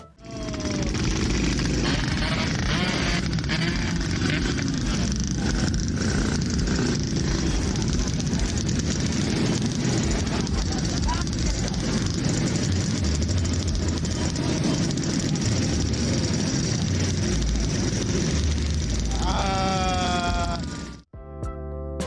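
Yamaha RX King two-stroke motorcycle engine running loud and steady for about twenty seconds, a dense continuous roar with rising revving tones near the end before it cuts off abruptly.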